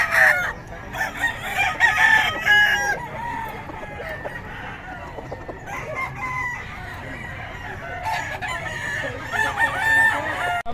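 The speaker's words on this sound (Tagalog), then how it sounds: "Mga manok nito." Chickens and a rooster fill the air as the rooster crows repeatedly over a constant background of clucking and squawking. The birds are close and loud throughout, with no clear talk.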